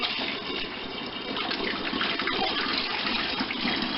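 Kahlua liquid pours steadily into a jar in one continuous, fairly quiet gushing stream, with no voices.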